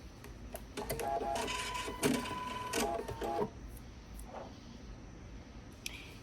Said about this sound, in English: we're going to be sewing very, very close to the edge